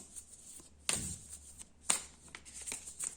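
Tarot cards being shuffled and one card drawn, with several short, crisp riffling and snapping bursts spaced across a quiet background.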